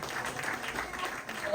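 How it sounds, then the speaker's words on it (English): Applause for trainees at a certificate ceremony after three months of training, a faint, steady patter of many hands clapping throughout, with no break. "let's give them a round of applause"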